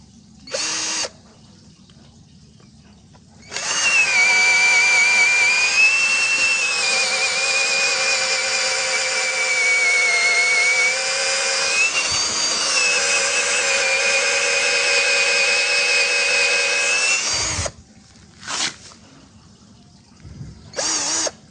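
A SOKIN 21V brushed cordless drill whirs loudly and close for about fourteen seconds, with its pitch shifting slightly under load. Short bursts of the motor come before and after the long run.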